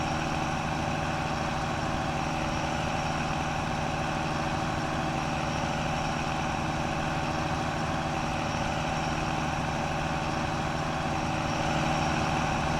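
A Massey Ferguson tractor engine in Farming Simulator 19 idles in a steady, droning hum with a constant low vibration and no change in pitch or loudness throughout.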